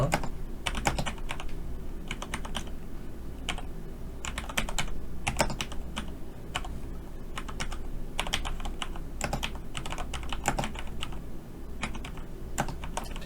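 Typing on a computer keyboard while entering text in PowerPoint for an ITQ exam exercise: quick, steady clacking keystrokes close up, in uneven clusters over a low background hum.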